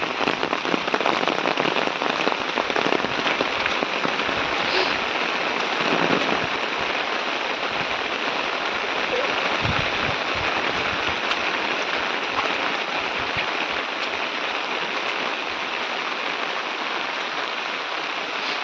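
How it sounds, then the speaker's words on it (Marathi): Light rain falling steadily over a village woodland, a continuous soft patter on surfaces with occasional heavier drops, even and unbroken throughout. "पाऊस कंटिन्यू चालू आहे गावाला जास्त जोरात नाही थोडा थोडा आहे"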